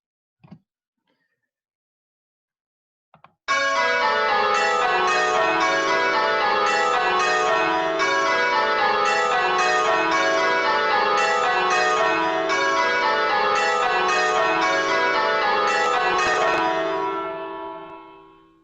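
A ring of church bells sounds a change, with rapid overlapping bell strikes ringing loud and continuous after a brief silence and a couple of faint knocks, then fading out at the end.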